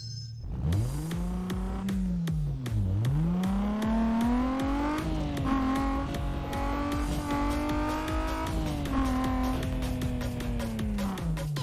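An Infiniti G35 in Need for Speed: Most Wanted revs and accelerates, its engine note climbing through repeated gear changes with a brief dip and recovery. The sound is loud, continuous and close.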